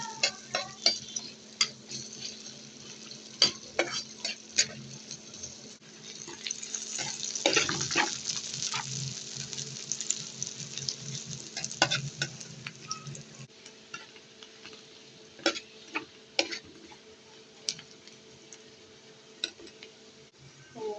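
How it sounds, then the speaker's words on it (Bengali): A paste with onion and garlic fries in oil in a pan, giving a soft continuous sizzle broken by scraping and stirring clicks, close and fairly quiet throughout. "পেস্টটা আমি এখন ভেজে নেব"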